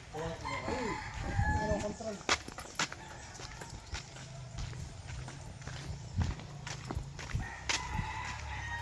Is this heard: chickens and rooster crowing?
yes